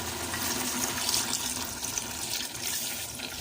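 First-press coconut milk poured into cooking jackfruit, a continuous close liquid pour and splash holding steady throughout with no speech.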